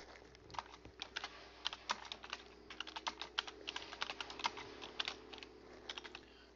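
Someone types on a computer keyboard with a quick, uneven patter of soft key clicks. The sound is faint and close, over a low background hum.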